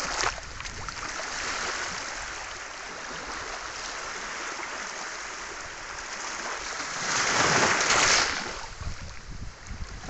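Sea waves wash onto the seashore in a steady broadband roar, swelling into a louder surge of breaking water near the end, with some wind noise and no voices.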